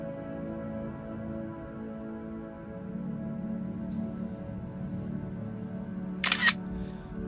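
A single faint, brief shutter click from a DJI Air 2S drone taking a photo, heard near the end over a steady low hum.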